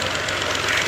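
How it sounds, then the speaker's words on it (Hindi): A tractor engine rumbles close by and loud in a brief burst, with a steady mechanical knock. "ट्रैक्टर आ गया।"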